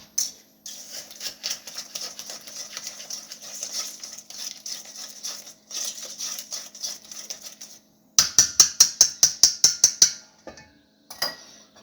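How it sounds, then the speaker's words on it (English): A small whisk beats an egg in a bowl, a quick steady patter of light metallic ticks that breaks into a louder, sharper burst of rapid clicks near the end. "I'm going to whisk it in with this beautiful little whisk."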